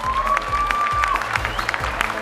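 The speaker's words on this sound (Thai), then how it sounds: "อยากจะขอเสียงปรบมือดังๆอีกสักครั้งหนึ่งนะครับ" A crowd at the Miss Tiffany Universe 2011 transgender beauty pageant applauds in a dense, steady patter of clapping, with a tonal sound drifting over it.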